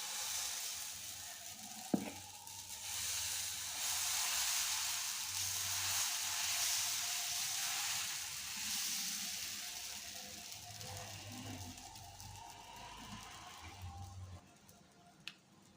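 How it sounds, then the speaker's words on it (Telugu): Pesarattu, a moong dal dosa batter, poured onto a hot pan and sizzling steadily, a dense close hiss with a sharp tap near the start and soft scraping sounds later. "ఇప్పుడు మీకు పెసరట్టు పోసి చూపిస్తాను"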